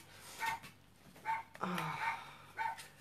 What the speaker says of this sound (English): I hear that dog all day, and they don't care. They just let it bark and bark and bark.